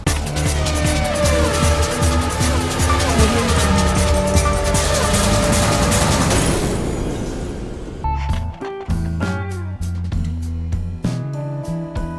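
A classic car's engine fires up and runs, first as a loud, dense roar close by, then easing into a rougher, uneven idle with rhythmic pulses and clatter.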